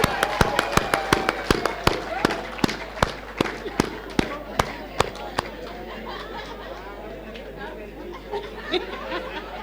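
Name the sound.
applause for Mr. Manzini at awards night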